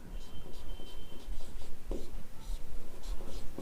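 Chalk or marker strokes scratch across a board during a chemistry lesson on organic compounds, a steady run of short scraping bursts under a teacher's ongoing speech.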